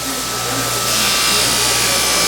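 A knife is pressed against a spinning fabric buffing wheel loaded with 120 grit compound, a loud continuous motor whir with a brighter rising hiss as the blade meets the wheel, close up.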